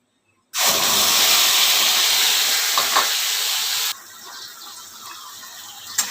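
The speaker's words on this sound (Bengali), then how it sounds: "এবার তেলের মধ্যে এই মশলাটা প্রথমে আমি দিয়ে দেবো" A poppy seed spice paste with dried chilli hits hot oil with a sudden, loud, close hiss that roars steadily for a few seconds, then drops to a softer, crackling sizzle.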